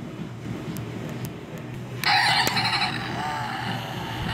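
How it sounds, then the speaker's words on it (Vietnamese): A small battery sound unit in a 1:32 scale Ford GT Heritage Edition alloy model car plays an engine roar that kicks in abruptly and holds steady, close and loud, following a few faint clicks. "chúng ta ấn đầu xe xuống thì sẽ có tiếng động cơ rất là thật"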